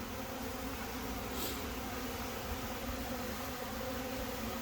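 A faint, continuous buzzing of bees at an apiary hive being fed sugar syrup, steady and low in level, with no voices.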